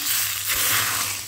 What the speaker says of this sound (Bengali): চলো ডালে ফোড়নটা দিয়ে দিলাম